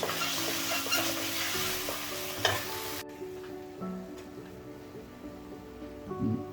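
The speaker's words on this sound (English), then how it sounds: "adding the seared or grilled lamb chops. Make a nice mix." Grilled lamb chops sizzle loudly in a pan while being stirred and mixed into a reduced sauce; the hiss is strong and steady at first, then drops to a softer simmer with occasional stirring scrapes.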